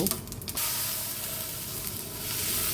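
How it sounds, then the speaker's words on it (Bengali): Cumin seeds sputter in hot oil in which a fish was just fried, then water goes in and the sizzle swells into a loud, sustained hiss of steam that fills the rest of the moment. "ওই তেলেই আমি সামান্য জিরে ফোড়ন দিয়ে জল দিয়ে দেব"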